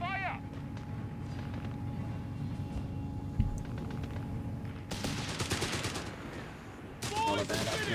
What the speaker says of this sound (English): 6-pounder shoots and seemingly either bounces or misses there.